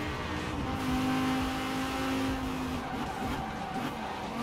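A Lamborghini Huracan Performante engine in Forza Horizon 4 drones continuously with a slightly rising and falling rev, a rough, buzzy tone at moderate distance with no talking.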